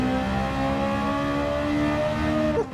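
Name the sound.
race car engine with race exhaust, Gran Turismo 7 video game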